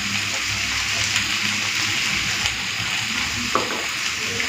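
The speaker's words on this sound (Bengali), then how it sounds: "এই সবজিগুলোকে না একটু হালকা ভেজে নেব, ভেজে নিলেই খেতে ভালো লাগবে" Vegetables fry lightly in a pan with salt and turmeric, cooking for a crab-leg chachchari: a steady close sizzle runs throughout, with occasional stirring scrapes and no talk.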